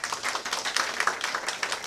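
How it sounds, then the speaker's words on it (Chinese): Audience applause at a fisheries press conference, a steady patter of many hands clapping at moderate distance, fairly soft, continuing throughout without speech. "掌声欢迎"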